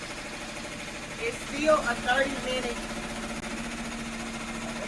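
An embroidery machine runs at a speed of 900 with a steady, mechanical drone throughout. A person talks briefly over it partway through.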